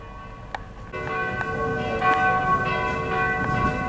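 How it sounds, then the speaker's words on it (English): Church bells ring steadily outdoors along the Danube, a sustained metallic peal that swells after the first second and continues with faint background bustle. "you should be able to hear the church bells and folks driving by on bicycles"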